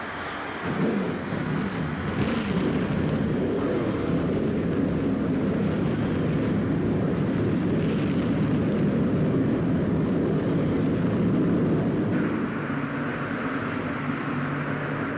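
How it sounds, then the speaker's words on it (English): Race car engines start up and rumble together at Richmond in the NASCAR Thunder 04 video game, a dense, continuous roar that holds steady throughout with no voices present. "Gentlemen, start your engines."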